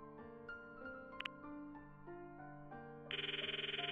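In the Steins;Gate game, a phone ring cuts in near the end as a rapid warbling electronic trill over soft background music, loud and close.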